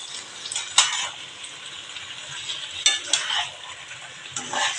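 Jackfruit seeds tossed into vegetables frying in a pan, a bright continuous sizzle close by, with a few sharp clinks and scrapes of a utensil stirring against the metal.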